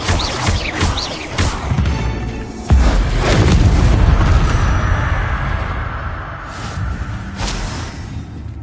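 Bombarda explosion spells booming in a Hogwarts Legacy cave fight, a run of heavy blasts and crashes with one big rumbling detonation that rolls on for several seconds amid other spell effects.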